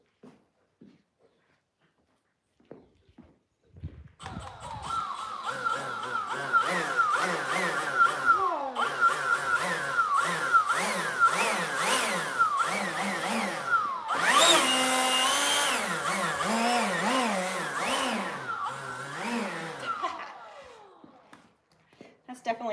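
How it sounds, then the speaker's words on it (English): A blower roars steadily for around fifteen seconds, close and loud, wavering in pitch and surging harder partway through, as it blasts shed hair off a mini horse, with a voice talking over it. "I'm just gonna probably blow the hair away."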